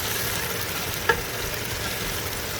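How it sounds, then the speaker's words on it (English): Gari jollof simmers and fries in a pot with a constant soft sizzle, broken once by a brief clink of the spoon against the pot while it is stirred. "I'm gonna stir it a little bit and leave it for it to simmer down a little bit"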